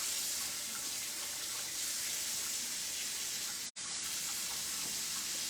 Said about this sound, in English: I'm also going to rinse these off.